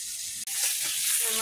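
Fish sizzling in hot oil in a home kitchen, a loud, steady crackling hiss with a brief dropout near the start and some faint clatter underneath.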